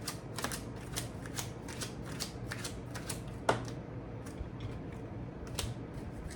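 Oracle cards are shuffled and drawn by hand, a quick run of crisp, papery flicks and riffles with one sharper snap midway, close and fairly quiet, with no talking.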